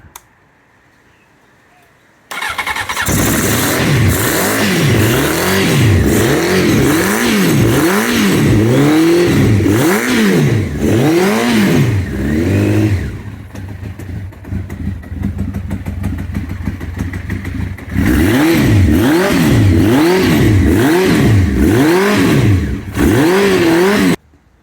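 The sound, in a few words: Honda CBR900RR Fireblade motorcycle engine starting and revving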